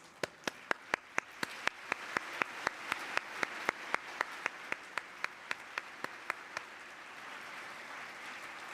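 Scattered applause from a conference workshop audience, with a few sharp, evenly spaced claps standing out close by over a softer, continuous background of clapping that thins toward the end.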